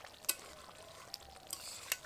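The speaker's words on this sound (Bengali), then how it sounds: "আবার একটু নেড়ে নিলাম, এবার চাপা দিয়ে দেবো।" Mutton in yogurt and ground spice paste is stirred in a pot, giving faint, soft scrapes and a few light taps over a quiet sizzle.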